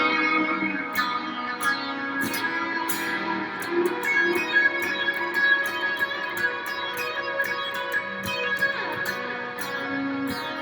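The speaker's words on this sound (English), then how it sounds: "should have a lot of delay and reverb, make that really swirly" Electric guitar line from a song with heavy delay and reverb, bright picked notes jumping back and forth between two phrases and blurring into a swirling, sustained echo tail, alone with no talking.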